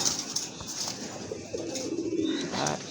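Domestic pigeons, local and foreign breeds kept for sale, coo close by in a soft, low, rolling call, with a few brief chirps and light rustling around it.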